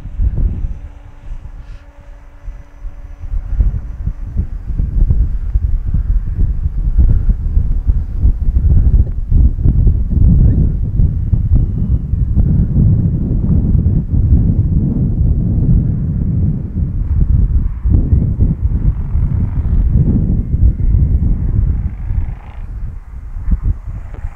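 Strong gusty wind roars and buffets the microphone throughout at a radio-controlled model airplane flight, a loud continuous rumble with low thumping blasts.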